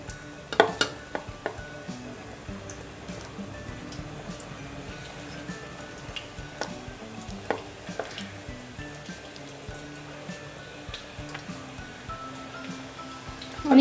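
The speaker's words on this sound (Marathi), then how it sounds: "तर आपण ह्याच्यामध्ये आता आपलं तेल पण मस्त इथे तापलेलं आहे तर आपण ह्याच्यामध्ये भज्या सोडूयात" Onion, spinach and potato bhaji fritters drop into hot oil and fry. A light crackle runs under scattered clinks and taps of a utensil against the pan, with a louder knock at the close.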